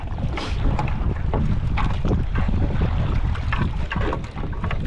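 Strong wind buffets and roars across the microphone over a low boat rumble and splashing water, continuous and close.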